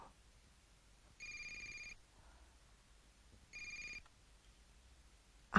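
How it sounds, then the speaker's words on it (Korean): A telephone rings in two separate electronic bursts, each under a second long with a quiet pause between them, clear and fairly close in a hushed room. "전화 왔어."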